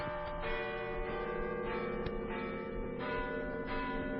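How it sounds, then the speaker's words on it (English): Church bells ring midnight on Christmas in a soft, sustained peal, their tones overlapping and hanging in the air at a distance. "Listen, the bells. Midnight."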